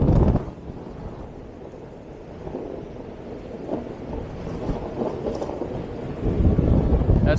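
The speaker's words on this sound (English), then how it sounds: "Oh, I've got a headwind." Rushing headwind roars steadily across the microphone during a fast top-speed run on a Land Snail 930 electric skateboard in pro mode, a loud continuous low buffeting that swells again near the end.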